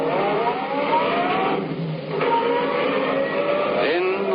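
A car engine revs and pulls away in a 1942 radio drama. The motor's pitch climbs in steady accelerating sweeps, loud and continuous, with a brief dip midway before surging again, all heard through narrow, muffled old-broadcast fidelity.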